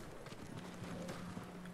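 Horse hooves in Ghost of Tsushima, a steady run of soft clip-clop beats over a constant low background of game ambience.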